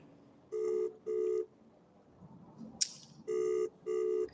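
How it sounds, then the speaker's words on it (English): A phone rings through a call line in a repeating pattern of paired electronic tones: two bursts, a pause with a brief sharp click, then two more bursts, clear and moderately loud. "Okay, so you can hear the ringing."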